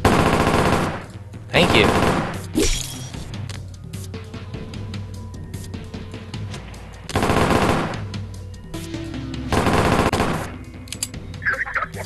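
Bursts of rapid automatic gunfire from a video game come in several loud volleys separated by shorter pauses, with the player talking over parts of it.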